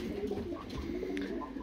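Pigeons coo continuously inside a loft, a steady low murmur of overlapping calls with soft rustling, close and moderately loud throughout.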